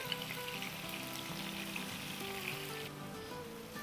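Chicken tandoori pieces sizzle and fry steadily in a hot pan, a continuous soft crackle with faint pops, no talking over it.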